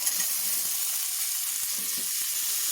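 Chopped carrots and peas sizzle in hot tempering oil in a pan, a steady bright hiss with faint crackles throughout, close and unbroken.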